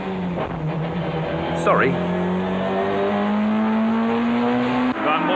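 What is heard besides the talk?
BTCC touring cars racing, Peugeot and Nissan, Brands Hatch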